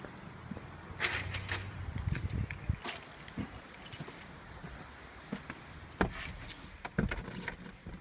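A bunch of car keys for a Navara D40 jangles up close in bursts of bright metallic clinks, with small knocks and handling noises between them and no talk.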